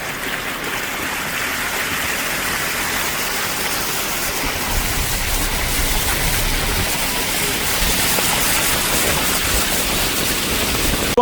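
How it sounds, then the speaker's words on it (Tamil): Floodwater pours across a village road in Kilinochchi, a steady, dense rushing wash that stays loud and unbroken throughout with no voices. "இவ்வளவு தண்ணி பாருங்கள் ரோட்டை மூடி பாய்ஞ்சு கொண்டிருக்கிறோம்"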